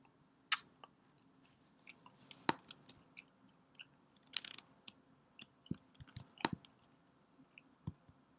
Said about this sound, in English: Chewing nicotine gum.